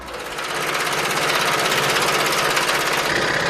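A woodworking saw machine cuts through a carved wooden panel for Korean hanok interior work, a steady, loud whirring drone that builds over the first half second and holds evenly throughout with no voices.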